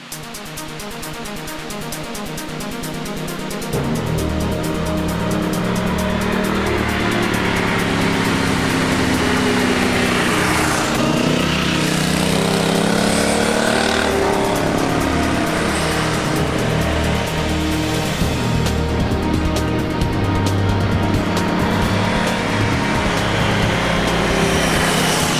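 A Honda Hawk 11 motorcycle rides on a freeway, its engine droning loud and close alongside heavy, continuous wind roar that rises after a quieter start, with no voices.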